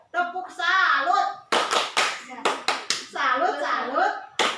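A training group claps out a rhythmic salute pattern, sharp sharp bursts of synchronized hand claps alternating with loud chanting voices, close and lively in a room.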